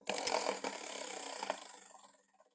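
A spinning prize wheel ticks in a rapid run of clicks that slows and fades over about two seconds, close and fairly quiet, with no talk.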